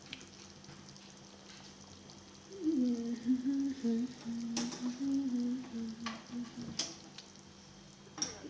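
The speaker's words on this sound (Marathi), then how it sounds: "चांगली उकळी आली मस्त" A pot of Maharashtrian yelavani amti, a lentil curry with black masala, bubbles and simmers quietly, with a faint wavering tone and occasional clicks over the boil.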